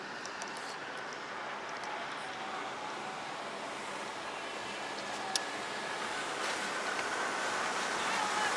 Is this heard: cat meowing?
no